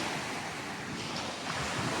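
Surf washing steadily onto a beach at high tide on the Selangor coast, a continuous broadband roar of breaking waves with some wind buffeting the microphone, no voices.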